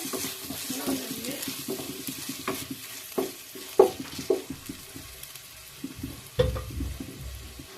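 Finely chopped onions fry in a pan for street-style pav bhaji, with a steady sizzle under repeated scraping and stirring strokes and a few louder clatters of the spoon against the pan.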